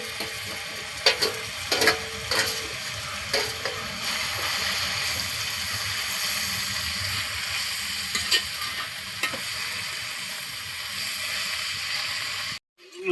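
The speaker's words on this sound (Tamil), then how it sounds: "இப்போ கீரையை அள்ளி போடுறோம். கீரையும் போட்டு ஒரு லைட்டாக ஒரு வதக்கிறோம்." Greens tossed into a pan over softened onion and garlic, sizzling steadily and fairly loud, with scattered scrapes and clinks of a spoon stirring through the frying.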